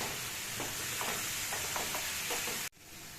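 Chhana stirred in a pan over a medium gas flame while being cooked down for mango sandesh, giving a steady close sizzle with soft scraping strokes repeating every half second or so, cutting off abruptly near the end.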